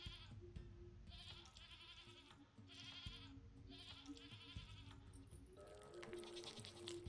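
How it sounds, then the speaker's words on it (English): A goat bleats repeatedly in the video game Sally Face, a series of wavering cries in a steady rhythm, faint and alone with no talking. "Ghost goat, apparently."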